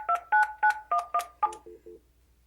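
Keypad tones from an Alcatel-Lucent ALE-400 desk phone, six short dual-tone beeps in a quick even rhythm followed by three shorter, lower beeps, clear and close with no talking.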